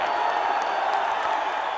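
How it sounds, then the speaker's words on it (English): A wrestling crowd applauding the Mad Dog, a dense, steady wash of clapping and cheering that fills the whole moment at an even level. "Oh, look at these fans stand and applaud the Mad Dog."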